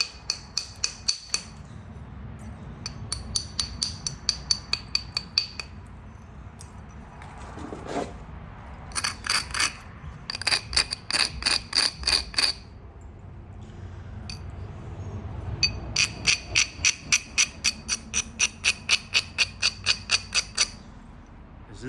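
Flint River chert being bevelled with a bopper while flint-knapping, rapid bursts of sharp stony clicks and scrapes in quick rhythmic runs, broken by short pauses, close and crisp.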